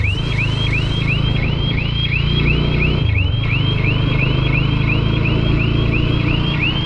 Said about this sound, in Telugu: అది నొక్కామంటే బైక్ బజర్ నుంచి అయితే సౌండ్ వస్తుందండి